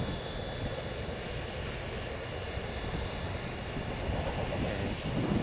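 An Arducopter 3.0 RC helicopter flying outdoors, a steady loud rotor and motor drone with a dense whine, constant and unbroken throughout with no talking.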